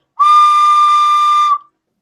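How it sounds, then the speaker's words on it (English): A toy blown as a whistle gives one loud, steady, shrill tone lasting just over a second, starting and stopping cleanly with nothing else around it. "And it can also be used as a whistle."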